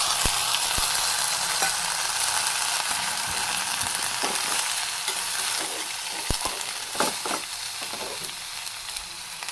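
Finely chopped ridge gourd with curry leaves stir-frying in a hot pan, a steady bright sizzle broken by scattered clinks and scrapes of a spatula, close and alone.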